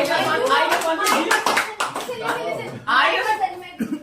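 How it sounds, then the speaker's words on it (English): Clapping breaks out for a speaker at an English-speaking practice group, a short burst of claps mixed with several voices talking and chuckling over and around it. "Clap for Dimple."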